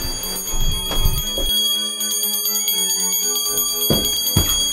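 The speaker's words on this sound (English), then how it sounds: "you need to stop ringing that bell" A hand bell is rung over and over in quick, even strokes, its bright metallic ringing loud and close and continuing with no pause.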